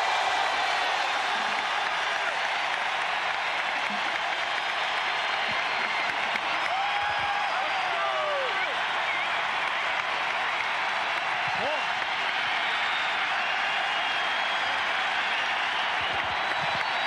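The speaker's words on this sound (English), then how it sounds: "you hear that crowd in the background" Dense roar of a football stadium crowd at the 1992 Michigan at Notre Dame game, a steady loud wash of cheering and applause that fills the whole stretch, with a few faint whistles rising above it.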